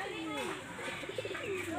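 A spotted white pigeon perched above coos in low, rolling phrases close by, with a faint background sound that may be voices.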